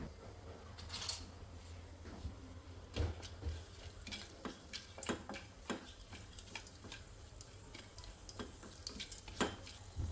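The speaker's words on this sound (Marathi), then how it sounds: "तेल गरम झालं की यामध्ये 2 हिरवी इलायची, काळी मिरी, दालचिनी तुकडा, 1 मोठी इलायची, 3 ते 4 लवंगा, 1 तेजपत्ता आणि परतून घेऊया।" Whole spices, green and black cardamom, black pepper, cinnamon, cloves and bay leaf, sautéed in hot oil in a pressure cooker: faint sizzling with irregular clinks and scrapes of a spoon against the metal pot, close but quiet.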